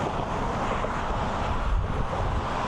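Constant blustery wind buffeting the microphone while walking across the Golden Gate Bridge, a dense low rumble with faint traffic hiss beneath and no voices.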